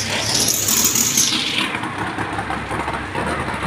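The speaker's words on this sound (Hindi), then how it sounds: "ये मेरा दोस्त आ रहा बाइक पर।" A motorbike engine revs loudly nearby in heavy rain, then fades as it pulls away, leaving a lower rumble.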